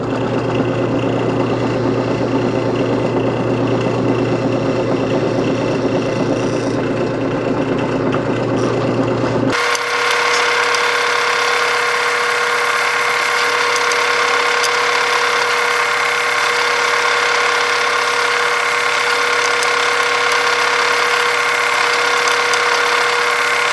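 A steady mechanical whine of a drill press motor running continuously with a centering jig, loud and close, with its tone shifting abruptly partway through.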